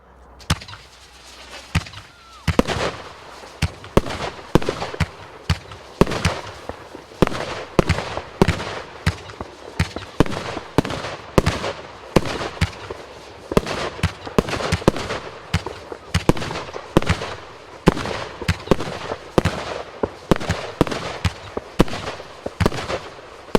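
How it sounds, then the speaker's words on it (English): Vivid Pyrotechnics Snakebite fireworks cake firing shot after shot, sharp loud bursts and cracks in a rapid irregular sequence running nearly half a minute, with faint crackle between the reports. "What did you think of that Snakebite by Vivid Pyrotechnics?"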